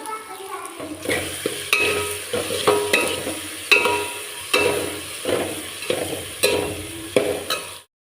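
Onion and tomato sauté in a pan, sizzling steadily while a spatula scrapes and stirs in regular strokes about once a second. The sound is close and clear, then cuts off abruptly at the end.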